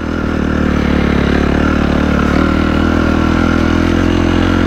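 An enduro motorcycle engine idling close by, a loud steady low rumble with a constant throbbing beat and faint mechanical clatter, unbroken throughout with no talking.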